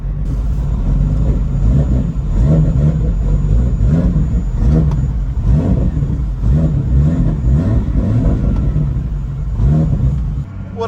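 A 700whp big turbo Nissan G35 coupe heard from inside the cabin, its engine rumbling loud and steady as it accelerates and revs, with fluctuating low drone and a faint high whine.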